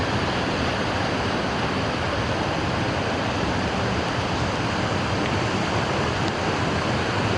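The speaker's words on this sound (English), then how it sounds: "It's been pouring rain for about an hour." Heavy rain pours on a hiking trail at a portage beside a river in the Boundary Waters wilderness, making a dense, even hiss that stays loud and unbroken throughout, with no voices.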